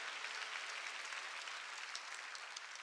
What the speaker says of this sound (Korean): 박수로 하나님께 영광 돌려야 하니